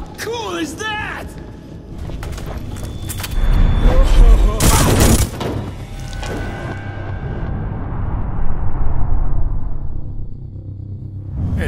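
Loud bursts of gunfire and booming impacts from the Hitman: Absolution video game, rapid shots clustered together with heavy rumbling blasts, mixed with game voices and music-like tones.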